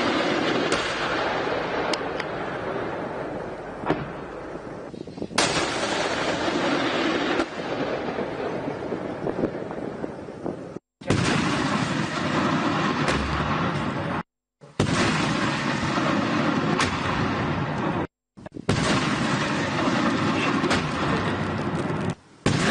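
Sustained roaring blasts of Pakistani army artillery fire, loud and close, heard in several long bursts separated by brief silent cuts, with no talk.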